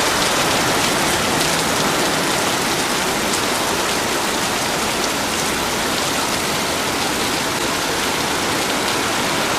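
Heavy rainstorm pouring down in a dense, steady roar of drops hitting surfaces, loud and unbroken throughout with no voices.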